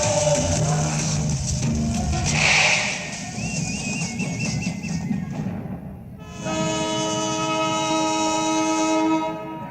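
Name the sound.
train starting to move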